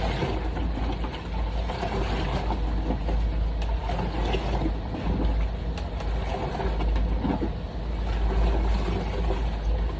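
A synthetic wig is dunked and squeezed in water, producing continuous close sloshing and churning that rises and falls slightly throughout, with no voices.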